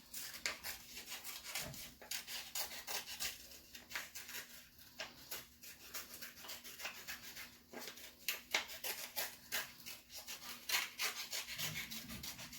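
Scissors snip and rustle through paper while a picture is cut out for a cubism art project, a fast irregular run of crisp cuts and paper rubbing, close and fairly quiet, with no talk.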